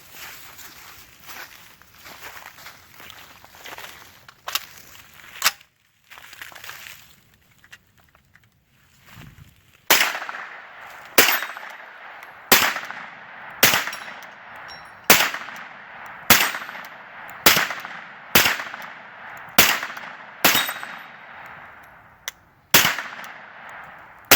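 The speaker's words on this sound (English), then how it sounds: "let's do some shooting" A CZ Scorpion Evo 3 S1 carbine fires a string of loud, sharp single shots at an even rhythm, each with a short ringing decay, after a quieter stretch of scattered clicks and handling noise.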